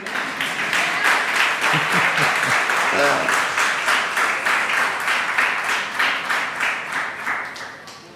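Church congregation applauding steadily for several seconds, a dense continuous patter of many hands that tapers slightly at the end.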